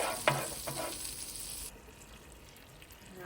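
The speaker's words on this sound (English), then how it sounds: "And here I just added some butter and minced garlic." Butter and minced garlic fry in a pan, giving a close crackling sizzle with a few sharp stirring clicks that cuts off abruptly into quiet room tone midway.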